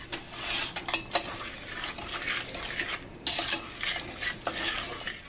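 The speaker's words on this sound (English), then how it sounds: "stir the blackberries up, and that helps break them apart" Blackberries and sugar are stirred in a saucepan over medium-low heat: a spoon scrapes and clinks against the pan, with wet, squishy churning and a faint sizzle. The stirring is uneven and close, with no talking.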